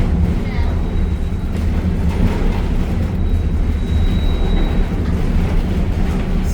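Steam locomotive train rolling along as heard from on board, a loud steady low rumble and clatter with a faint thin whine, under occasional talk.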